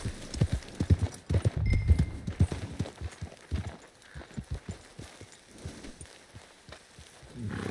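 Horse hooves clip-clopping in Red Dead Redemption 2, a rhythmic run of close, clear hoofbeats on hard ground that slows and spaces out, then quickens again near the end, with no talking over it.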